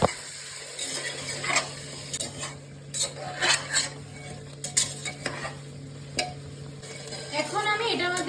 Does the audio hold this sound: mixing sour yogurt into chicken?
yes